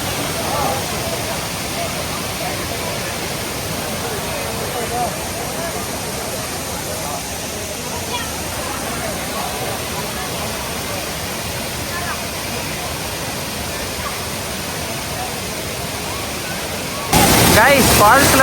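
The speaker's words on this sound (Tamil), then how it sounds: "ஃபால்ஸில் செம்ம தண்ணி வருதுங்க, வேறு லெவலில் இருக்குதுங்க" Heavy water flow at Thiruparappu waterfall gives a loud, steady, close-up roar that holds at an even level throughout, with no voices over it.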